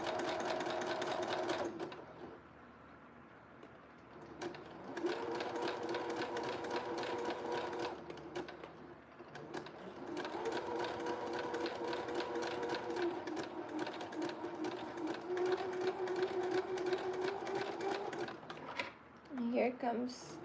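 A sewing machine stitches a blue jumpsuit in steady rapid runs of mechanical chatter, pausing briefly between bursts and pushing through thicker fabric, while a person talks over it.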